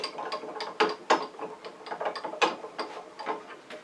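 A wood lathe's tailstock is pulled back to remove the live centre, giving a run of sharp, irregular mechanical clicks and clunks, close and fairly loud.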